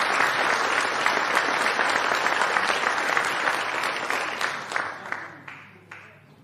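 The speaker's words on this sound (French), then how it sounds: "je crois que vous pouvez l'applaudir" An audience at an anniversary speech gives sustained applause, a dense, even wash of clapping that thins into scattered individual claps as it fades out.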